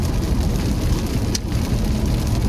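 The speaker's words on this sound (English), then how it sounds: "It is a beautiful rainy day here." Rain falls outdoors on a rainy day as a dense, steady hiss and patter that stays even throughout, close and fairly loud, with no voices.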